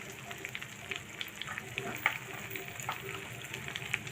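Spices sizzle and crackle in hot oil at a moderate level, a steady hiss with scattered small pops.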